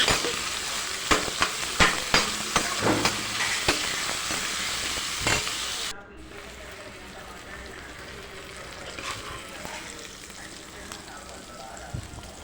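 Chopped onion and four green chillies sizzle in hot oil for a Telugu ridge gourd and chana dal curry, with close stirring clicks and scrapes over steady frying for six seconds, then a softer, quieter sizzle continues.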